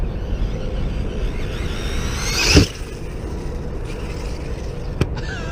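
An Arrma Senton 6s RC truck whines along outdoors, its electric motor rising to a sharp revving sweep that peaks and drops off, over a steady background rumble, followed by a brief click.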